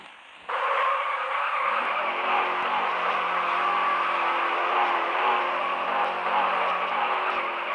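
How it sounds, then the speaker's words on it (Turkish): A motorcycle lifts its front wheel and drifts, its tires skidding in one loud, steady rush of friction noise that starts abruptly and holds without a break. "Buradan hemen şöyle bir ön kaldırarak drift atalım."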